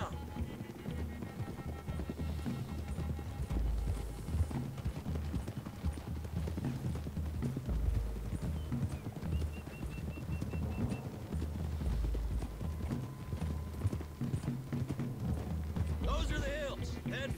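Several horses trot along a road toward the hills in Red Dead Redemption 2, their clip-clop hoofbeats steady under a continuous rumble of game sound and music, with voices talking over them.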